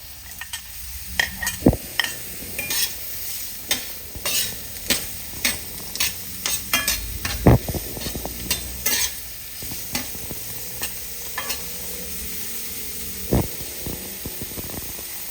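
Onion and garlic sautéing in a pan for ginisang ampalaya, with a soft sizzle under repeated clinks and scrapes of a spatula stirring, close and fairly quiet.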